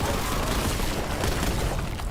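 An explosion goes off in the first-person shooter Warhammer 40,000 Boltgun as one dense continuous roar of booming blasts and rumble, loud throughout and with no clear gaps.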